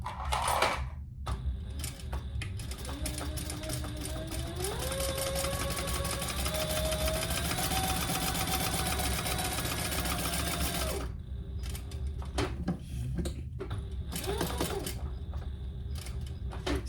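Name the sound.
sewing machine sewing a laptop bag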